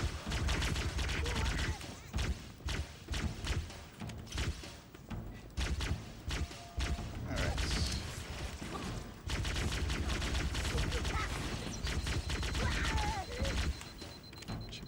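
Sustained gunfire in the video game Halo: Combat Evolved, dense rapid bursts and shots running nearly continuously and loud throughout, with mechanical clatter mixed in.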